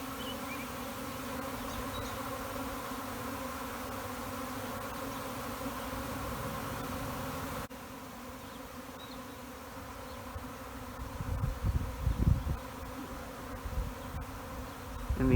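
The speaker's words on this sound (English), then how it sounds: "But when a swarm moves, it kind of looks like it's raining bees." A honeybee swarm drones in a steady, continuous buzz from many insects, loud and close throughout, with some low thumping handling noise toward the end.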